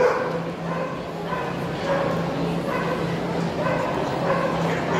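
Macedonian Karaman dogs at a dog show give repeated barks and whimpering yips amid the hall's background noise, while a voice talks throughout.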